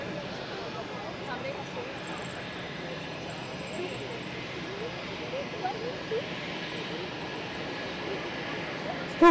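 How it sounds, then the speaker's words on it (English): United Boeing 767-400ER airliner at Zurich Airport rumbles steadily at a distance, a low continuous engine roar that holds level throughout. "United! Who have a 767-400 extended range on its way to Washington."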